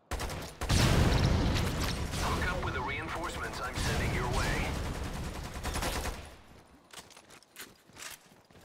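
Lost Planet 2 gameplay where dense gunfire rips into explosive objects, a loud sustained barrage of shots and blasts for several seconds that tapers into scattered, quieter bursts.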